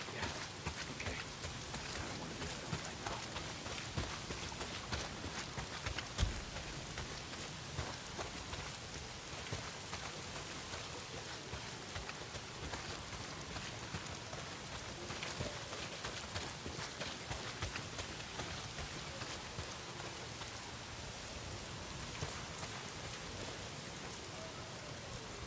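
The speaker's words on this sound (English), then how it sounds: "Well, not if it's pissing down rain." Heavy rain pours steadily in the video game Days Gone, a dense, even hiss of drops hitting surfaces throughout, with no voices.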